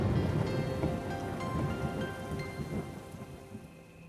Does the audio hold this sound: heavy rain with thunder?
yes